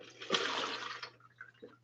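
Liquid candle wax is poured into a gallon jug in one faint, close, gurgling rush lasting about a second, followed by a few small drips.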